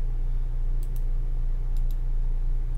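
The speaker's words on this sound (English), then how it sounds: "Then you can click on download Python." Computer mouse clicking during setup on a Windows PC: two quick pairs of crisp clicks about a second apart over a steady low electrical hum, with no speech.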